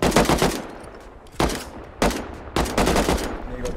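Loud, close automatic AK rifle fire in a video game, in several rapid bursts of shots separated by short pauses, with a long sustained burst near the end.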